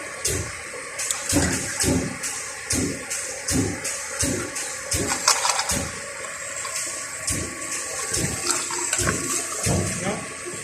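CAT 150 KVA diesel generator engine running, a steady rumbling drone with rapid repeating knocks and pulses throughout, fairly close and loud.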